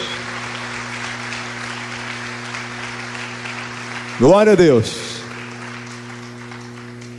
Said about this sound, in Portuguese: Você pode dar mais um forte aplauso ao Senhor?